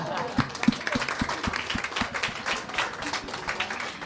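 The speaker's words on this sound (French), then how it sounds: "On peut l'applaudir." Scattered audience clapping at an evening meeting on professional unions and mandates, fairly faint, with a few distinct claps in a loose rhythm amid room noise and speech.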